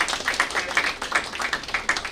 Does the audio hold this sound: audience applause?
yes